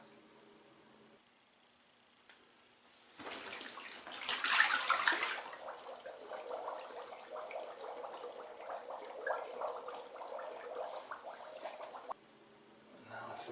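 A Therm-a-Rest air mattress is pushed down into water to hunt for a leak, giving soft sloshing and gurgling that rises abruptly and holds for several seconds before cutting off, quiet and close with faint room noise around it.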